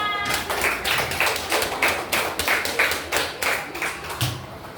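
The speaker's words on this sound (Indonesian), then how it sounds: "Beri tepuk tangan untuk kita semua." A small classroom group claps in a fairly regular rhythm, close and loud, the sharp claps roughly evenly spaced for several seconds with little else beneath them.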